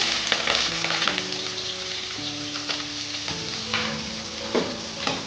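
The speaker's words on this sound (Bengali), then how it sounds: "পেঁয়াজটা আমি ভেজে নিয়েছি" Chopped onions frying in a pan after nutmeg and cinnamon, a continuous moderate sizzle with occasional stirring scrapes and no voices.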